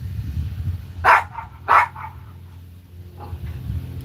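A dog gives two sharp, close barks about half a second apart, followed by a fainter third bark a moment later over a low background hum.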